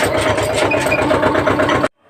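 A tractor engine running, a steady close mid-pitched chugging drone for under two seconds that cuts off abruptly.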